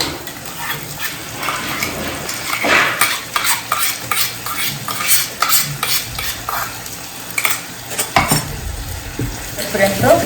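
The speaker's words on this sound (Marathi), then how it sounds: "त्याच्यात आता टोमॅटोची प्युरी टाकते" Tomato puree hits reddened onions frying in a pan, followed by a busy run of spoon scrapes and clinks against the metal over a steady sizzle, close and fairly loud.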